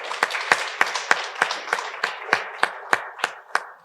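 An audience claps at a fiftieth anniversary celebration, about a dozen sharp, evenly spaced claps in a steady rhythm, close and clear with no talking over them.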